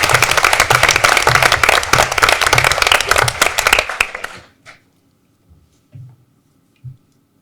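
Applause at a school board of education meeting honoring an all-conference athlete, a dense burst of many hands clapping loudly for about four seconds, then cutting off to silence with a few faint scattered knocks.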